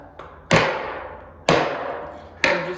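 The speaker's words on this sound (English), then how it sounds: "now that you removed all bolts for the bike, you can go ahead and give it a little tap" Three sharp, ringing taps land about a second apart, close and clear, as an e-bike motor is struck lightly to free it from the frame after its bolts are removed.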